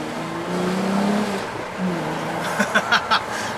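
A 2017 Volkswagen Beetle GSR drives through town, its engine note rising and falling at moderate volume. A few short bumps or clunks come toward the end.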